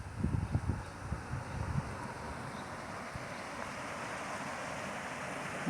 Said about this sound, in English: You can hear the creek in the background